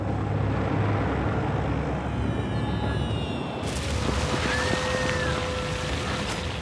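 Wartime aircraft bombing German cities, a continuous heavy engine drone and rumble with dull booms underneath, loud and sustained throughout.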